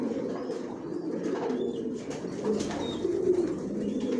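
Racing pigeons in a loft give a steady, low murmur of cooing, with no talk over it.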